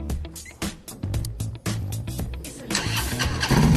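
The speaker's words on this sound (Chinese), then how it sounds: "发动机声音从后面响起，只有最厉害的汽车才有这样的感觉哦" A Harley motorcycle engine cranks with sharp uneven pops and stutters, then catches and settles into a louder, rough continuous rumble, close by with no talk.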